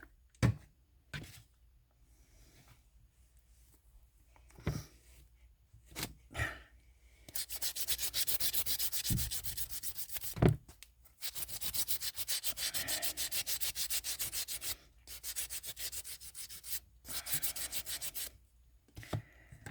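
Hand sanding with sandpaper during a ceramic resin mold project, heard as a few light scrapes at first, then long continuous bursts of rough, close rubbing that stop and restart.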